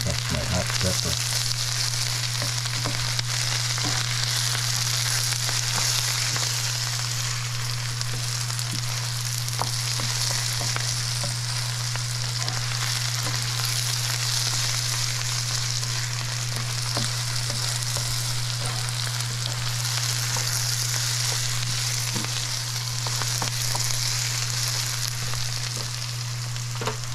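Hot pepper sizzling and frying steadily in a pan for Spanish rice, a continuous bright crackle with occasional stirring scrapes and a constant low hum underneath, no talking.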